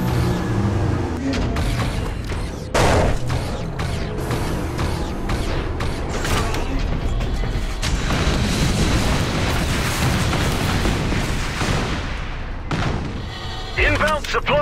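Airstrike explosions in the sci-fi shooter Section 8: Prejudice on the Solar Array map: a continuous dense barrage of loud booms and rumbling blasts with mechanical clatter, constant for most of the clip before easing briefly near the end.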